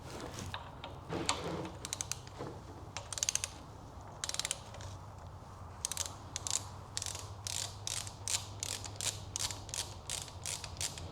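A torque wrench tightens a bolt to 30 foot-pounds on a 3V Mustang GT engine during timing work, making a run of quiet, rapid ratcheting clicks in short bursts that speed up toward the end.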